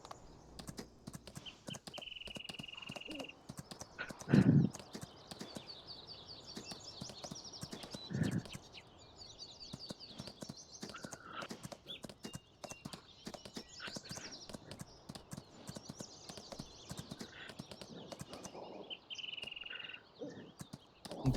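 Horse hooves clip-clop in the Farming Simulator 19 video game, a steady, fairly quiet run of hollow knocks that goes on throughout, with a few louder thumps and faint background tones.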